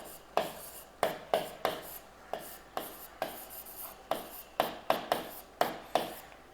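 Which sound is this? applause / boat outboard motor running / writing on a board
writing on a board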